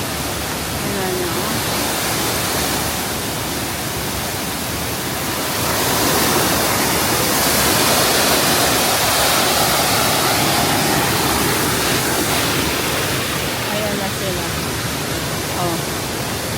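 Botolan Falls rushes loudly and steadily, its rain-swollen, muddy water producing a dense, unbroken roar that swells slightly midway.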